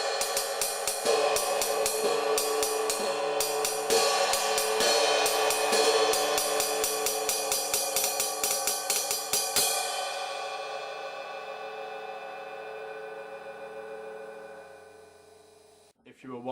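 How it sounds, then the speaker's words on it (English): Rapid, repeated bright pings struck on a cymbal bell, then a long shimmering ring that slowly fades away. "the bell size is a little more raised and quite a bit bigger, so it's quite a lot easier to hit"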